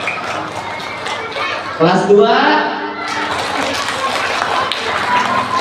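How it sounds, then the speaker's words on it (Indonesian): Elementary schoolchildren at an Indonesian school's Maulid Nabi gathering clap their hands on cue, one class at a time. A dense burst of crowd clapping rises after an adult voice calls out to them. "Kelas 1 coba tepuk tangan."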